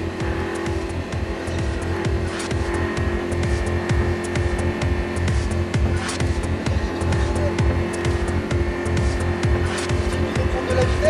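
A Lamborghini LP560 on a race circuit at Frontange roars under full throttle, heard from inside as a loud, continuous engine drone with steady rumbling.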